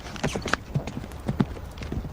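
Hooves of a ridden horse clip-clop at a steady, uneven trot during a medieval cavalry demonstration with a kite shield, several distinct hoof strikes close by, with no talk over them.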